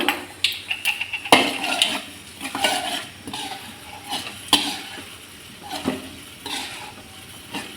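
Mustard seeds and urad dal fry in hot oil for a tomato fry, a soft crackling sizzle broken by sharp metallic clinks and scrapes of a spoon stirring in the pan.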